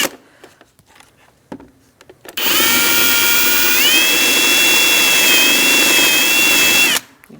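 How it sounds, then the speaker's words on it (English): A power drill fitted with an extra large bit bores into the plastic rivet heads of a 2008-2014 Mercedes-Benz C300 interior door handle kit, whining steadily and loudly for about four seconds, with the pitch rising slightly partway through, after quiet handling noises. "We're going to remove the heads of these rivets. I'm using an extra large drill bit."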